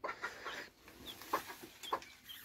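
Backyard chickens clucking in a small flock, several short, bright clucks scattered irregularly over quiet background, fairly faint and nearby, with no talking.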